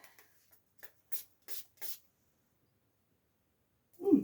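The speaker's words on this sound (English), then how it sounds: "now let's spray it into the environment here" Several short, soft hissing bursts of a spray bottle misting an essential oil blend into a room, spaced unevenly, followed by a brief louder rustle at the end.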